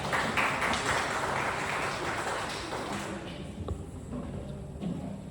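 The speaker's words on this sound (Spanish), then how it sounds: "Un aplauso, por favor" Applause from a seated audience at an academic conference on decolonizing politics, a dense clatter of hand claps that is strongest at first and gradually thins and fades.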